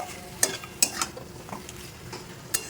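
Chicken and pre-fried potatoes stirred in a pan with very little oil: a soft, steady sizzle under a few sharp clinks of a utensil on the pan, spaced out across the clip, with no talking.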